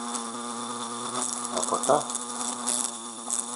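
A ground bee buzzes steadily and close, a constant droning hum with slight swells, while a voice speaks briefly over it.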